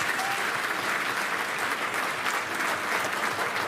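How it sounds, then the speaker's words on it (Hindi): Loud, sustained applause from a large crowd of electricity workers gathered at a protest rally in Delhi, dense steady clapping filling the whole stretch without a break. "जोरदार तालियां बजाओ उसके समान।"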